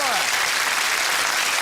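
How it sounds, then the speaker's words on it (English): Applause from a UK television game show studio audience, a dense steady wash of clapping at full strength from start to finish. "Big round of applause, please, for Gillian Robertson."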